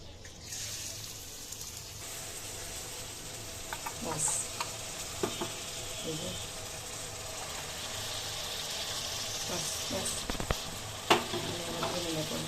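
Chicken fries in oil with a constant close sizzle, punctuated by occasional utensil clinks and scraping.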